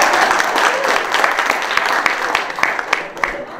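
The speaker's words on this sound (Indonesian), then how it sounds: "Tepuk tangan" An audience claps through the whole stretch at a talk on leadership, a dense, fairly loud wash of applause with sharper individual claps, while a voice speaks faintly underneath.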